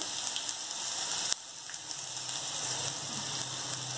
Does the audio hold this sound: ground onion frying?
yes